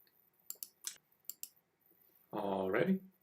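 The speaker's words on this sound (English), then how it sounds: "you click Settle a Debt Lawsuit, then you click the Get Started button." Sharp computer mouse clicks while navigating a debt lawsuit settlement website, several isolated clicks spaced over a couple of seconds in a quiet room, followed by a brief burst of other sound at the end.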